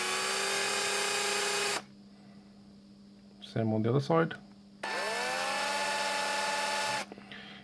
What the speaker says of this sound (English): you will use the holes that you already made as a reference to drill through underneath into the secondary part.